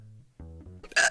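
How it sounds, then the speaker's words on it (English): A single sharp hiccup bursts out at close range after a stretch of low, voiced murmuring in a quiet indoor setting. "I have the hiccups now"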